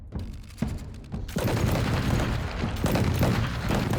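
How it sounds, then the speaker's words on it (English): A video game volley of arquebus gunfire: a rapid crackle of many shots erupts together into a dense salvo, preceded by a few scattered pops, loud and sustained for several seconds. "The arquebusers quickly form a line and unleash a salvo of gunfire into the battle mages' ranks."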